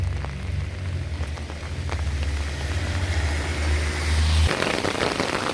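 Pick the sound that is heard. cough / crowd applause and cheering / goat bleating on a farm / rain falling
rain falling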